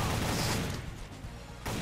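Gunfire in the video game Soldier of Fortune Payback, a dense loud burst of shots filling the first three-quarters of a second, easing to quieter rumble, then another sharp burst near the end.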